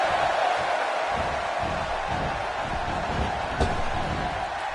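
Wrestling crowd in a PS4 wrestling video game, a steady wash of cheering and murmur held at an even level throughout, with a brief sharp accent near the end.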